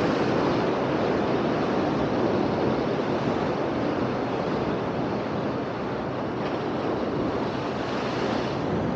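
Sea waves wash against the shore by the Miramar caravan area in Torrox, a steady, broad rushing surf mixed with wind noise on the microphone, with no voices.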